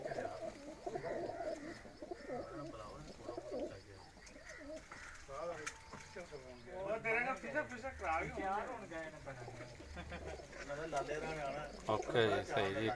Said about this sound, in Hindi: राना साहब होरां जी ब्रीडर कबूतर ने जी